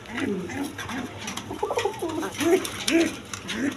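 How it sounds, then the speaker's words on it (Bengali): A pair of native Gola pigeons sitting on large eggs give soft, repeated low coos, close by, with faint background chatter and noise. "এখানে এক পেয়ার দেশি গোল্লা কবুতর আছে, দেখেন বিগ সাইজেরই ডিম নিয়ে বসে রয়েছে।"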